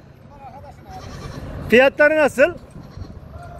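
Goats and sheep at a small-livestock market in Çorum bleat loudly in a quick series of close calls, with a voice and faint market background around them.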